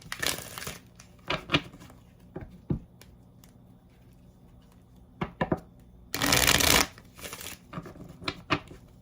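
Tarot cards are shuffled by hand in quiet surroundings, with brief riffles and taps scattered throughout and one longer, louder riffle burst near the end.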